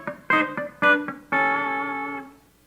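A country guitar lick played with hybrid picking and added notes: a few quick plucked twangy notes followed by a sustained ringing chord, played alone and close.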